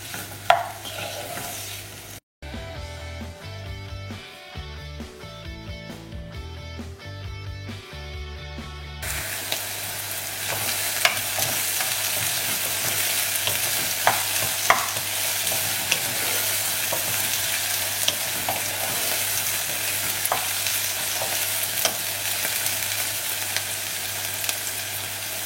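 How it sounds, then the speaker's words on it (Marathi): Chopped onion frying in oil with salt, hissing steadily and rising in intensity over a long stretch, after an opening section of background music, with occasional stirring scrapes and no talking. "हो कांदो आमी बरो भाजया."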